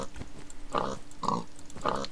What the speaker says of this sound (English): Some more pigs.